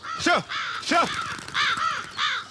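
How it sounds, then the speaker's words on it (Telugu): Crows caw repeatedly, several harsh calls in close succession, loud and near, in an outdoor scene from a Telugu film. "కాకులు"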